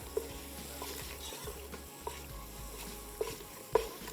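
Green daal with cardamom powder frying in desi ghee, a soft continuous sizzle with a few sharp spoon taps and stirring scrapes spaced through the few seconds, close and moderately quiet, no talk.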